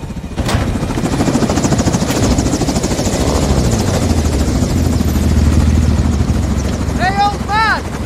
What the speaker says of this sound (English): Stay in the heli on overwatch.